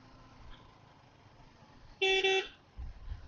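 A single short, loud motorcycle horn blast from a 2025 KTM 390, then the low rumble of the engine follows.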